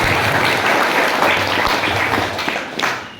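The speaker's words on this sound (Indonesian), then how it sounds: "Tepuk tangan dulu untuk" Dense, loud audience applause at a disaster-preparedness simulation event held by a foundation, a continuous crowd of clapping hands that holds steady and tapers slightly near the end.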